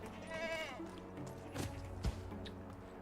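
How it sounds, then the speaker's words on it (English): Goats bleat in the video game Medieval Dynasty, a few wavering calls near the start followed by softer bleats and brief rustles, with someone speaking over them. "not sheep. Those are goats."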